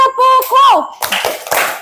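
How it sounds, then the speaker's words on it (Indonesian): A classroom of students claps hands after a group's presentation. A brief voice comes first, then several uneven bursts of clapping follow. "Kasih tepuk tangan."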